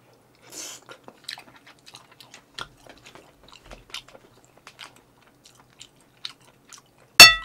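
Hamburg steak and tomato meatballs being eaten close up, with soft irregular bites and chewing sounds spread across the quiet stretch, ending in a sudden loud burst.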